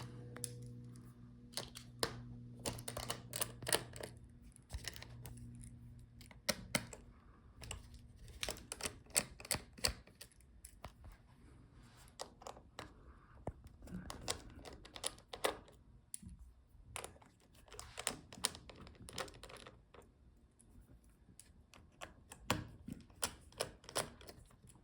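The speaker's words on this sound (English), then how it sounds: "now let's unscrew all the screws for the motherboard." A screwdriver works loose the motherboard screws inside a Lenovo ThinkPad L14 laptop, giving quiet, close, irregular clicks and small metallic taps scattered throughout, with no talk.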